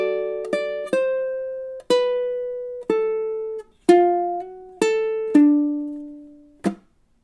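A ukulele plays a blues intro two bars long, plucking single notes and short double stops with gaps between them, ending on a sustained note. It is close, sparse and unaccompanied, with no voice.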